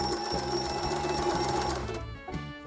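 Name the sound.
sewing machine stitching a zigzag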